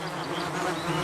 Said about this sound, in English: He's standing on a beehive.